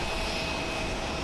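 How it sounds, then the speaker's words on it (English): An All Nippon Airways Airbus A320neo jet landing on a runway at Haneda Airport in Tokyo, a steady broadband engine roar that stays loud and constant throughout, with no voices. "This is All Nippon Airways Flight 748 coming in from NTQ. It's a 50-minute flight aboard an Airbus A320neo"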